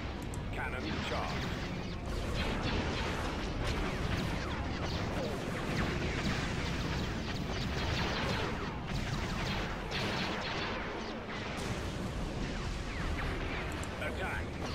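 Cannon fire from an AT-AT walker in the Star Wars strategy game Thrawn's Revenge: Imperial Civil War, rendered as a dense, continuous barrage of booming blasts and battle noise at steady loudness, with voice chatter mixed in.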